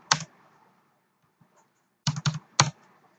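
Keystrokes on a computer keyboard while entering a PLC program in RSLogix 500 software: one tap, a pause, then a quick run of three close, crisp clicks alone in a quiet room.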